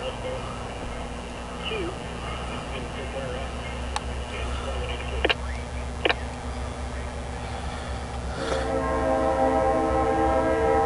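A westbound CSX K677-17 empty ethanol pipeline train, led by two CN locomotives, rumbles past steadily. A few sharp clanks are heard, then a loud, sustained horn blast near the end, and voices are heard faintly.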